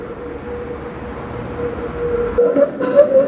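A Brussels tram runs steadily at a moderate distance, a low rumbling drone with brief squeals and clanks as it rounds a corner at night, growing slightly louder toward the end.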